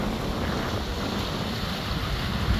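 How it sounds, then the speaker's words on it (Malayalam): A boat travels through ocean waves, with steady wash and splashing water and wind buffeting the microphone, a continuous broadband rush that stays loud throughout with no voices. "തിരയിലൂടെ ഇങ്ങനെ ബോട്ട് ഇങ്ങനെ സഞ്ചരിച്ചുകൊണ്ടിരിക്കുക."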